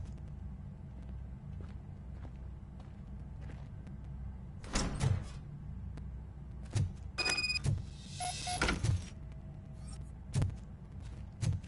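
A door opens in the RoboCop: Rogue City video game with a few heavy mechanical clunks and a brief sliding rush amid low ambient hum, followed by scattered thuds.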